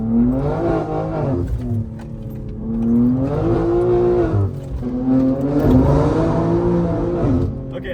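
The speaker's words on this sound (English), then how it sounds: "The car is still incredibly loud for some reason" A loud drift car's engine and exhaust rev up and down repeatedly while driving on a public road, the pitch rising and falling in steady surges with a constant rumbling drone underneath.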